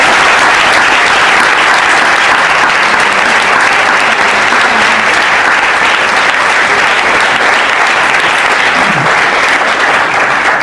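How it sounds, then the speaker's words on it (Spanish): Sustained, loud applause from a large audience at a ceremonial Aragonese language congress event in Huesca, dense steady clapping filling the whole stretch. "Un aplauso para todos."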